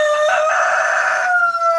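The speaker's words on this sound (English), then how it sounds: "especially with all these roosters crowing in my ear" Roosters crowing loudly and close by, one long sustained cock-a-doodle-doo call with a second overlapping bird, steady and piercing throughout.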